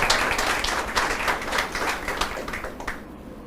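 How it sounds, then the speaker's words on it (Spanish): A church congregation claps in praise during a sermon, a loud, dense burst of applause from many hands that carries on for about three seconds and then begins to thin out. "De un aplauso al Señor."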